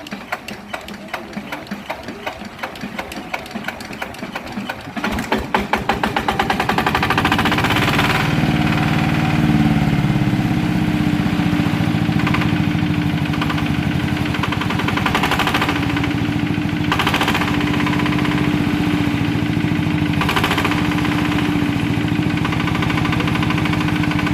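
A Yanmar TF105ML-di two-wheel walk-behind tractor engine starts with rapid chugging knocks, then settles into a loud, steady mechanical running clatter with slight rises in revs; someone talks over it at times.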